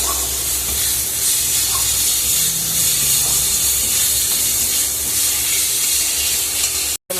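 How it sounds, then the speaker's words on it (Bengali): Turmeric, salt and chicken masala fry in a hot pan, giving a steady, loud sizzling hiss that holds evenly throughout and cuts out briefly near the end. "মশলাটা ভেজে নেব।"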